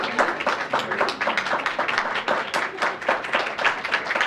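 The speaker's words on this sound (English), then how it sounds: "Please hold the applause." Steady crowd applause at an awards ceremony, many hands clapping in a dense, continuous patter that holds at an even level throughout without breaks.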